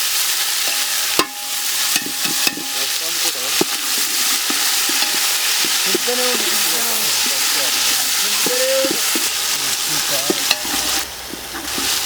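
Curry leaves, ginger and garlic crackle and sizzle in hot oil for a fish curry, a bright continuous hiss with occasional stirring knocks, close and loud, with a voice speaking faintly beneath.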